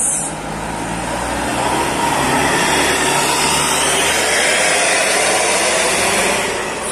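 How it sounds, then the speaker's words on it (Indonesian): A medium DMH Trans tour bus passes on a town road, a loud broadband engine and tyre rush that swells slightly and then eases off over several seconds, with no talk. "Melintas ini bus medium DMH Trans."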